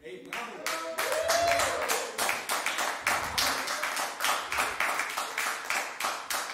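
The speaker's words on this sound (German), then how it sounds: "Es gibt mehr Applaus für Adel Tawil als für mich." Studio audience at a German late-night talk show applauding and cheering as guests are introduced: a dense burst of clapping that settles into a steady, rhythmic clap-along, with a voice speaking briefly over it.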